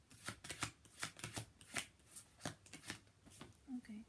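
Oracle cards being shuffled by hand before one is drawn, a quick run of crisp riffling flicks close to the listener, followed by a few soft taps near the end.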